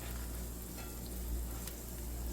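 Hotteok, a Korean sweet pancake, frying in an oiled pan: a steady, close sizzle of hot oil that holds even throughout with faint crackles and no talking.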